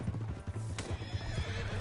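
A horse in the video game Red Dead Redemption gallops with rapid, rhythmic clip-clop hoofbeats up close, and a sharp whinny cuts through partway.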